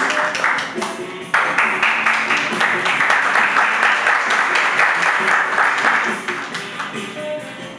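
An audience at a Miss BPX 2019 semi-final pageant applauds. The clapping swells sharply after a brief lull, holds loud and dense, then thins toward the end, with faint voices underneath.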